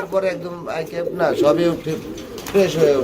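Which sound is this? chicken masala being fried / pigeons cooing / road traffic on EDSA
pigeons cooing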